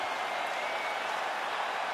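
A crowd at the end of a full 25-minute MMA fight applauds and cheers in a dense, steady roar of clapping and shouting that fills the arena without a break.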